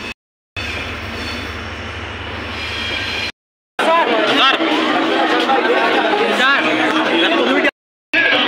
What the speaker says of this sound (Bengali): এই যে এখন ট্রেন যাচ্ছে, সেজন্য আমরা এখানে দাঁড়িয়ে আছি, ট্রেনটা গেলে তারপর পার হব।